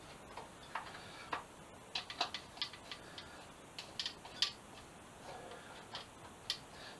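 Bolts being gently tightened during a rebuild of a 2007 Suzuki GSX-R 750, with quick, irregular ratchet-like clicks and ticks, close and fairly quiet, coming in short bursts.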